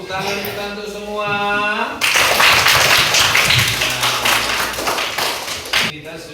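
Children in a primary school classroom clap their hands together in a loud burst of dense, rapid clapping lasting several seconds. A teacher's voice speaks just before it starts.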